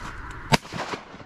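A single shotgun shot during a duck hunt, a sharp distant crack standing out once against quiet outdoor background.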